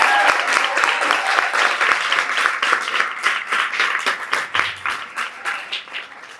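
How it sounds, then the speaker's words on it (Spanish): Audience at a feminist talk on memory applauds with loud, dense clapping that gradually thins and fades toward the end. "Un gran aplauso para Miriam."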